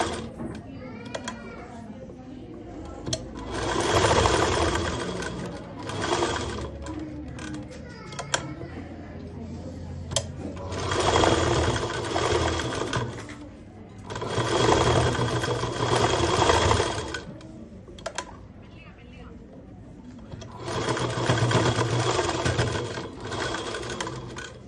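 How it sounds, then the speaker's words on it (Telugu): A sewing machine stitching a hem on a school skirt, running in several loud, close bursts of rapid whirring separated by pauses while a person talks. "హెమ్మింగ్ పట్టి లోపలికి ఉండేటట్టుగా మనకు దానిపైన కుట్టు రావాలి"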